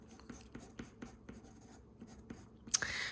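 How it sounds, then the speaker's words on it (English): A pen writes notes on paper with faint, rapid scratching strokes, soft and close, ending in a brief louder rustle. "I'm actually going to write this on a different piece of paper here."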